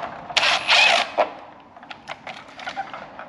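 Socket wrench working oily nuts loose on a spare engine from a WW2 Karrier K6 lorry, a short burst of metallic ratcheting clicks followed by lighter scattered ticks and taps, close and alone.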